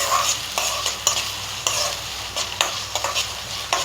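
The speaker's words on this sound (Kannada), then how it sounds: "ಆಯಿಲ್ ಹಾಕಿ ಈರುಳ್ಳಿ ಹಾಕಿದ್ದೀನಿ." Onions frying in oil for a Marathi-style junka, stirred briskly: a loud, close sizzle with regular scraping strokes of a spoon against the pan, no voices.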